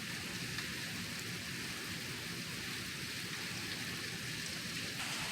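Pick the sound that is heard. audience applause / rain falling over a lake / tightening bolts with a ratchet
rain falling over a lake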